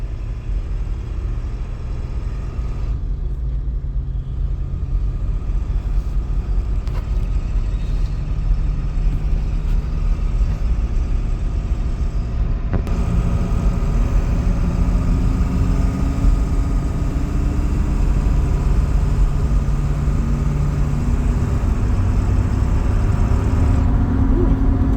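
A 2002 Ford F350 truck on a road test drive after a wheel alignment, heard from inside the cab as a steady loud drone of engine and road rumble that holds constant throughout.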